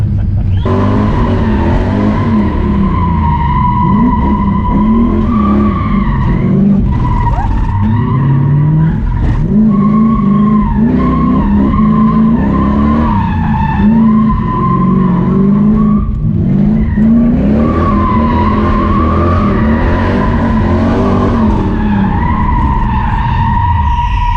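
Drift car skidding hard with sustained tire squeal and engine roar, loud and continuous for the whole stretch with wavering pitch as the car slides.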